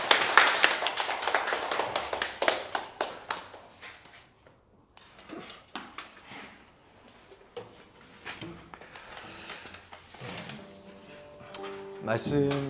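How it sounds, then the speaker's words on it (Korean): Worshippers in a Sunday church service clap together in a dense burst of overlapping claps that thins out and fades over the first few seconds, followed by quieter scattered sounds and a faint musical tone near the end. "하나님께 영광의 박수 올려드리겠습니다"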